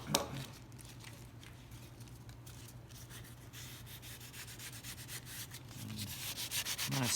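Sandpaper rubs steadily across a guitar soundboard with a thin wood veneer, making a continuous, close, gritty scratching with light, even strokes throughout and no talking.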